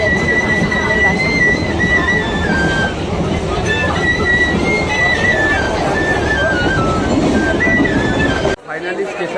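A passenger train runs along the tracks with a steady loud rumble and rattle, high squealing tones rising and falling above it, before the noise cuts off abruptly near the end.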